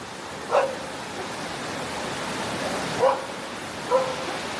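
Dogs bark outdoors: three short, distant barks, spaced a few seconds apart, over a steady background hiss.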